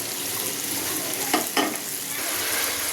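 Ginger garlic paste frying in a pan with dried chilli, bay leaf, cumin and onion: a steady, close hiss of sizzling oil broken by two short scraping stirs midway, with no voices.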